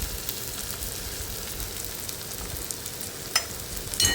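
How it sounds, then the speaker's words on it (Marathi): Ground spices such as turmeric, coriander powder and Kashmiri chilli powder fry in hot oil, a steady close sizzle with soft stirring scrapes and a couple of brief knocks near the end. "आता हे मसाले व्यवस्थित तेलामध्ये परतून घ्यायचेत आपल्याला"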